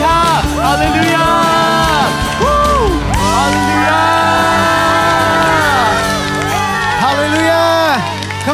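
A church congregation cheers and praises during worship, a loud continuous crowd of voices shouting and whooping over sustained music, with singing and speech mixed throughout.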